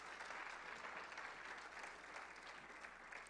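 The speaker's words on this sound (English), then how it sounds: "Give him a round of applause." An audience at a church service claps in steady, dense applause, even and sustained throughout, heard from within the room with no talk over it.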